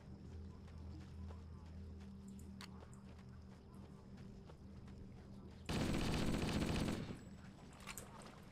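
Machine gun fire in the video game Halo: Combat Evolved, a loud burst of rapid shots lasting over a second, standing out above quieter game sounds and faint ticking.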